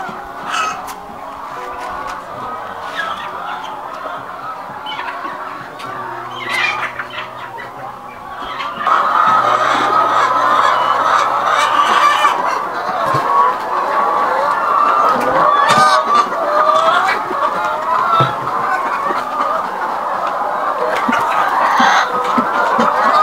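Laying hens in a poultry house on a farm, a dense chorus of overlapping clucks and cackles that grows louder and fuller partway through, continuous and close, with no talking.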